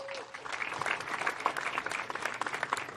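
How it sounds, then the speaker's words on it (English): Audience claps for young racers at a youth karting awards ceremony, a brief burst of many hands applauding at moderate volume, slightly uneven, with faint voices underneath. "one big fun round of applause for your Mini 60"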